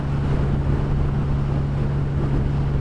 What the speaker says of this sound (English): this is just not a nice, it's sort of blustery. I'm having to hold the bike against the wind